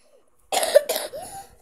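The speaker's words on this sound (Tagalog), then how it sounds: "Inuubo ako eh." Two or three close, harsh coughs in quick succession, a voiced throaty rasp trailing off after the last one.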